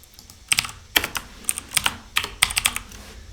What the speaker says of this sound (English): I'm going to type in my name here